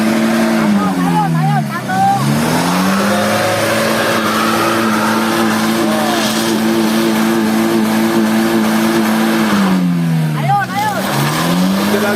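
A stuck car in the rain revs its engine hard and steadily while being pushed, the pitch dipping and climbing twice, with people talking over the loud droning motor.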